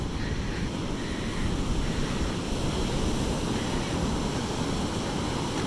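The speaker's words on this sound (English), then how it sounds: "I wonder what she thinks about the waves." Ocean waves breaking on a beach make a continuous, loud roar of surf mixed with wind buffeting the microphone, with no pauses or voices.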